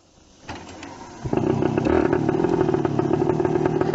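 A Yamaha Enduro motorcycle, back on the road after 20 years of sitting, starts moving and rides along, its engine note rising from a low idle to a steady loud drone with some clatter, close by.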